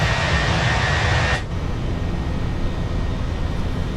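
In Microsoft Flight Simulator, an airliner departing the runway gives a loud, broad jet roar that rumbles steadily, with a sharp shift in tone partway through as the engine noise continues uninterrupted.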